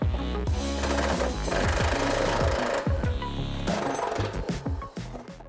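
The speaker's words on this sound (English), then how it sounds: "We're going to start with these 2 bolts right out here. Get them loosened up." A power tool drives and loosens the front bumper bolts on a 2007-2018 Jeep Wrangler JK, a loud continuous whirring and rattling with impact-like pulses that stop and restart several times.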